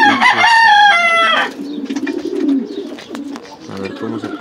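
A rooster crows loudly up close, followed by soft clucking and chatter of hens scratching nearby.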